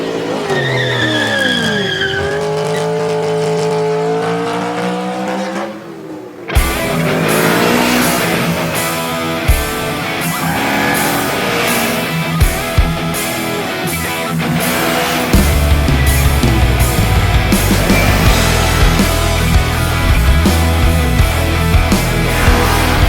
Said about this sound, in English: I recently had the pleasure of riding the 2017 Yamaha MT03